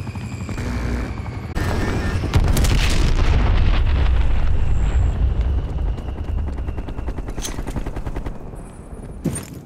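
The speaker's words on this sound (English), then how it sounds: "Hostile strafe run inbound." Call of Duty Black Ops Cold War multiplayer hostile strafe run: a burst of loud explosions and rapid gunfire rumbling for several seconds, with sharp impacts and booms fading toward the end.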